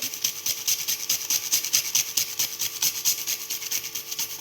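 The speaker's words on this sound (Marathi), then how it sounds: "जायफळ किसून टाकतोय" Whole nutmeg grated by hand in a kitchen, a quick series of dry, scratchy rasping strokes in a steady back-and-forth rhythm, close and moderately loud with no talking.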